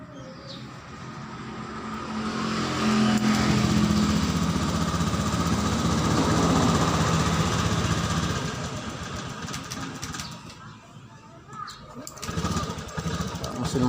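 Honda Beat scooter engine idling during a fault-code check with the O2 sensor unplugged: a steady close-up engine drone that swells and then eases, with someone talking over it.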